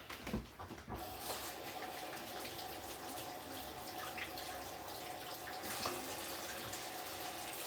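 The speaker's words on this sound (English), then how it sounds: "And I just rinse my hands again." Hands rinsed under a running kitchen tap while cooking ribs, a steady even hiss of flowing water lasting throughout, with a brief splashy burst at the start as hands move into the stream.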